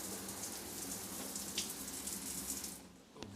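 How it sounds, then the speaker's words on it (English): A hotel shower in Blackpool blasts at high pressure, a close, loud, steady hiss of spraying water that cuts off abruptly near the end. "let's just quickly check the shower pressure"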